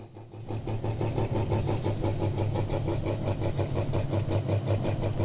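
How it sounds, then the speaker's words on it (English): A Mack truck with a big 998 Mack engine roars at a hot rod semi truck pull at Dragway 42. The engine drones loud and steady, with a pulsing throb throughout. "Big 998 Mack in that Mack truck."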